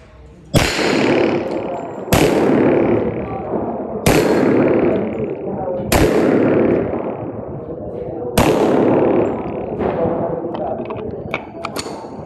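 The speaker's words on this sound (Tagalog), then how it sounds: "ang gagamitin naman natin ngayon is reload, Teflon coated. Tapos mga steel plates ang titirahin natin." Armscor RIA 1911 GI Series .45 ACP pistol firing Teflon-coated reloads at steel plates; six loud, sharp shots spaced about two seconds apart, each with a long ringing decay.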